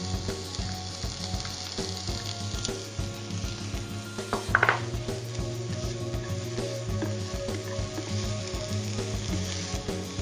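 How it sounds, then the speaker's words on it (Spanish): Chopped bell pepper sizzles steadily in a pan of vegetable oil, a continuous close frying hiss with a brief clatter of utensil near the middle. "En una sartén hemos agregado un poquito de aceite vegetal y también vamos a agregar el pimiento picado."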